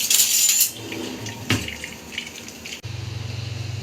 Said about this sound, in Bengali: চেপে এটা সব এর জলটা বার করে দেব।